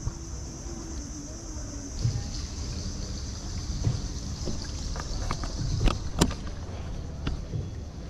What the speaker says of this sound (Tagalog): Sakay na tayo ng bangka mga next.